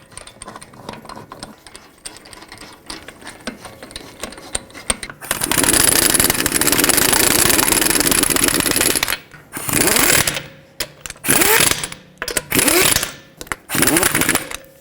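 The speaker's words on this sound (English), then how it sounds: "Put on all 5 of your lug nuts, bottom them out" Lug nuts on a 2012-2017 Toyota Camry wheel being run down with a power tool, loud sustained mechanical rattling bursts of a few seconds each, then several shorter spurts separated by gaps, close up with no speech.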